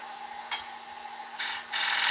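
A woodturning tool scrapes away the dovetail on a chunky oak fruit bowl spinning on the lathe, a steady hissing rasp with a faint motor hum beneath and a few brief louder bursts of cutting.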